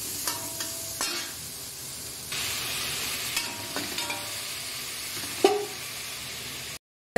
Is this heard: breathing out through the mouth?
no